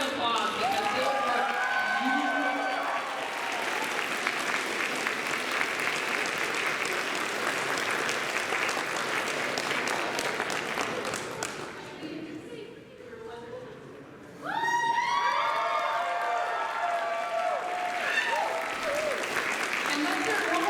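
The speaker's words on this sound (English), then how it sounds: "So give them a big round of applause" Audience applause and cheering at a cosplay contest at Magfest; dense, loud clapping with whoops fills the space, briefly thins around the middle, then surges back, with an announcer speaking over it.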